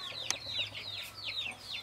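Brief bout of soft, repeated clucking from a farmyard chicken on a country smallholding, a few quick chirpy calls heard faintly with a single small knock partway through.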